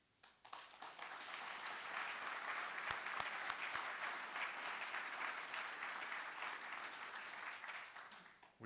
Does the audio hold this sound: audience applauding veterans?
yes